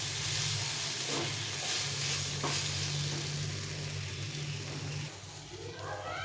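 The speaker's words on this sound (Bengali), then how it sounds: "সয়া সস দিয়ে দিলাম, দিয়ে আবার একটু নাড়াচাড়া করে নিতে হবে।" Vegetables stirred with soy sauce in a frying pan over low gas, a steady close sizzle with occasional scraping stir sounds, quieting slightly near the end.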